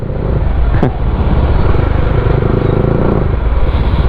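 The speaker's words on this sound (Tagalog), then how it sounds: "Marami din dumadaan. Kaya mayroon din traffic." Road traffic on a busy two-lane city street, cars and motorcycles passing close and loud with a steady engine roar and a brief sharp whine near the start, recorded from inside the flow of vehicles.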